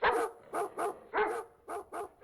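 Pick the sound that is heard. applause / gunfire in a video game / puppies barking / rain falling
puppies barking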